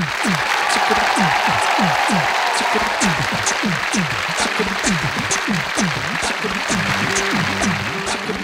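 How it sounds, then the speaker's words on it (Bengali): A studio audience at a regional-language stage show in Dinajpur claps steadily for contestants walking on stage, with a dense, sustained applause and sharper tonal sweeps layered on top. "আসুন আপনারা মঞ্চে চলে আসুন, তাদের জন্য করতালি।"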